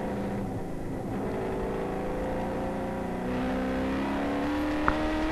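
Race cars from a NASA American Iron championship race, stout high-horsepower machines, roar steadily with engine pitch climbing under acceleration, loud and continuous with a brief sharp click near the end.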